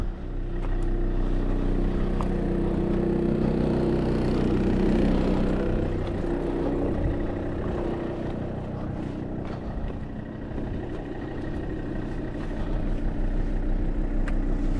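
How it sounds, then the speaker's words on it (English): A car engine runs steadily while driving, a continuous low drone with road rumble, close and even throughout with no talking. "I've just jumped in the car, turned the engine over"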